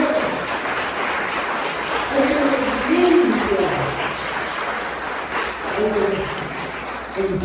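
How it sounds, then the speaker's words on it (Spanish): Broad, steady applause from a church congregation, rising and falling slightly, with a few voices audible beneath the clapping. "Pueden darle un aplauso"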